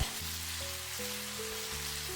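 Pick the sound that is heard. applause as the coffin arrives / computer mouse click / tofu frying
tofu frying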